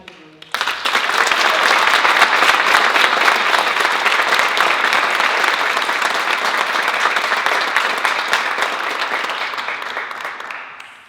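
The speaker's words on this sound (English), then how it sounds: "Please join me in applauding Bo Bracken for being nominated in the STEM category." Sustained audience applause at a county youth awards ceremony, starting abruptly and holding steady and loud for about ten seconds before tapering off, with no talking over it.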